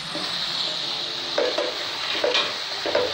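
Spices sizzling in hot oil in a pan for Indian-style chicken fried rice, under a steady hiss, with a spoon stirring in three short scraping bursts.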